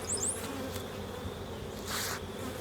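Honey bees swarm around an open hive during a spring inspection, a steady close buzz with individual bees zipping past near the ear, loudest in a burst near the end.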